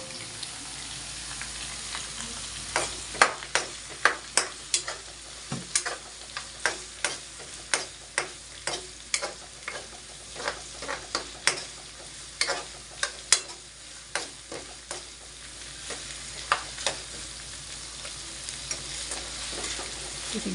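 Garlic and onion sauté in a pan under a soft continuous sizzle, punctuated by a regular series of clicking stir and scrape strokes from a utensil, close and moderately quiet.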